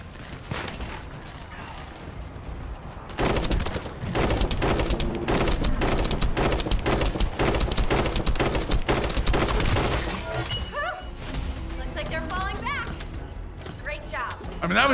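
Heavy sustained gunfire in The First Descendant erupts after a quieter stretch, dense volleys of shots pounding nonstop, with a voice speaking over parts of the exchange.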